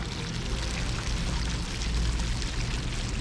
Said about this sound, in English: we can see it's kind of flushing out that brown water